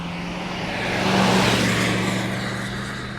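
A 1969 Chevrolet Camaro engine revs nearby, a low rumble swelling to a louder peak midway and easing back, heard alone without talk.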